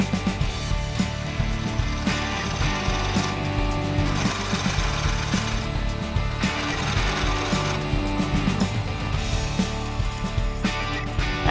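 A wood lathe spins a bowl blank while a tool hollows and refines its shape, giving a loud, continuous mechanical whir with rough scraping and chattering, and no talking.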